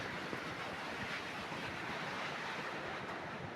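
Rushing stream in the Drakensberg mountains flowing toward a waterfall, a dense, steady broadband roar of water heard close and loud without pause.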